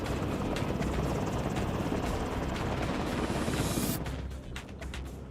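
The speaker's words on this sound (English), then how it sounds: "the primary weapon platform of the Marine Air Assault Arsenal is the AH-1, the Cobra" A four-bladed Bell AH-1 Cobra military attack helicopter of the Marines drones loudly with dense rotor chop, steady for several seconds, then eases slightly as it passes.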